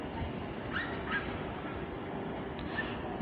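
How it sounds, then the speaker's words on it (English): A small dog yips and whimpers a few times in the distance at London Bridge station, faint short cries over a steady low rumble of station noise. "and there's a dog barking."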